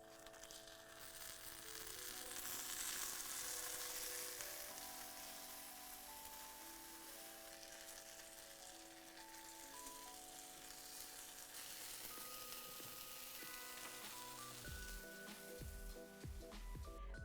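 A turkey quesadilla frying in a pan sizzles steadily and evenly throughout, with soft background music playing alongside.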